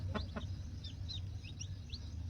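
A few newly hatched chicks give soft, high, short peeping chirps while being held so they can dip their beaks and drink water, heard faintly over a low background hum.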